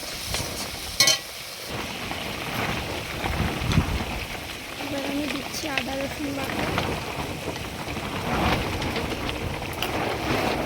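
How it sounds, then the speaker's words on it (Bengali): Strong wind blowing outside a kitchen, a continuous rushing roar with gusty swells buffeting the recording while someone speaks over it. "বাইরে প্রচণ্ড হাওয়া হচ্ছে, যার জন্য ভিডিওতে একটু আওয়াজ আসছে।"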